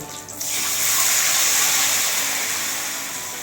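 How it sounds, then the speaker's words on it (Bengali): Water pours steadily into a hot pan of fried nigella seeds and green chillies, a loud continuous hiss and gush that rises after a brief quiet start and holds for several seconds with no talking. "আর তার সাথেই কিন্তু আমি দিয়ে দিচ্ছি একটুখানি জল"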